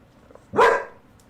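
A dog gives a single loud, close bark that rises sharply and fades within about half a second, set against a quiet room.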